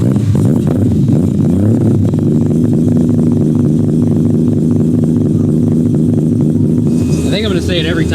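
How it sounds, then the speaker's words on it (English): A Mazda RX-7 rotary running on E85 with a 4-inch exhaust fires up and settles into a loud, lumpy, throbbing idle, close by and continuous, with a faint voice near the end. "let's fire this thing up"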